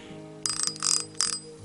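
A small bell on a fishing rod reel jingles in three quick bright bursts, close and clear over a faint low hum.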